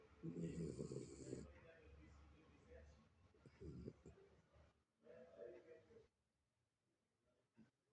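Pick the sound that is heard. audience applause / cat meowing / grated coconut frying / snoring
snoring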